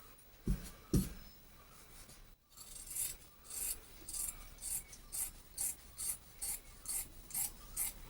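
Scissors cutting a garment shape from folded cloth, giving two sharp snips at first, then a steady rhythmic series of rasping cuts repeating about every half second, close and moderately quiet with no speech.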